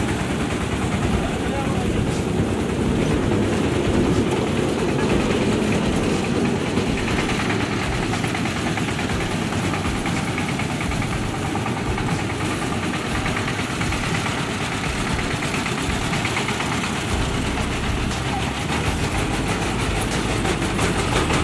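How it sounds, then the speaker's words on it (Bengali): A passenger train rolls through Switzerland with a steady, loud interior rumble and rail noise that runs unbroken for the whole stretch, with some talk mixed in. "সুইজারল্যান্ড ট্রেনে ঘুরতেছি"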